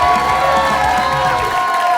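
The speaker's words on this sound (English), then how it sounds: "So everybody, start clapping. Start clapping. Right now." A comedy club crowd in Denver claps and cheers for a comedian being introduced, a loud, steady wash of applause and shouts from start to finish.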